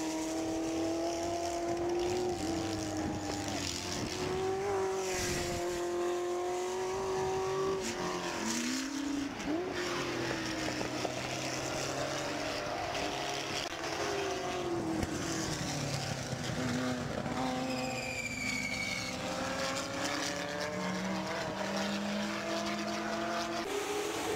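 Ford GT40 race cars, including a GT40 Mark IV, racing in the Whitsun Trophy at the 2013 Goodwood Revival, with loud engines revving, shifting and sweeping in pitch as cars pass one after another.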